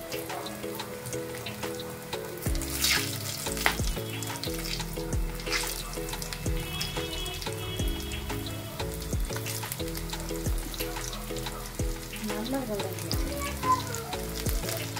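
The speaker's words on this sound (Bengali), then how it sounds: "এবার আমি একটা একটা করে দেবো আর ডিপ ফ্রাই করে নেব।" Spring onion pakoras deep frying one by one in hot oil, a loud continuous bubbling sizzle with intermittent clinks and stirring throughout, no speech.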